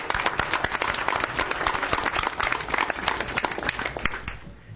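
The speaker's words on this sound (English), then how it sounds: "I think a round of applause for Eddie's service should be given." Attendees at a governing board meeting applaud in a room, giving close, steady clapping from a modest group that fades out at the end, with no talk over it.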